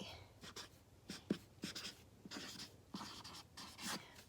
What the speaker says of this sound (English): So I'm going to write happy